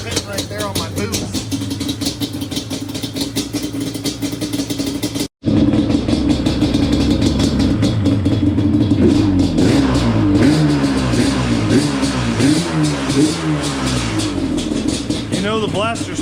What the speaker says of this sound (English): You know the blaster started first kick